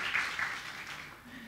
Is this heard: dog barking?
no